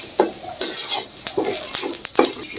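Whole spices are stirred in a hot pan: cumin, green, white and black cardamom, cinnamon and bay leaves. They crackle and sizzle as a spatula clinks and scrapes against the metal in quick, uneven strokes.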